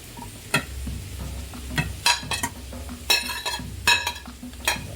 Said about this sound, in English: Okay, I'm gonna put the chicken in here.